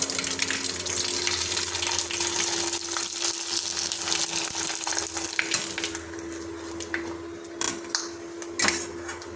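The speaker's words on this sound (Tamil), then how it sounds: "பொரிச்சு காமிக்கிறேன்." Sun-dried sago vadam (javvarisi vadam) frying in hot oil, a close, steady bubbling sizzle with crackles and a few sharper pops near the end, no talk.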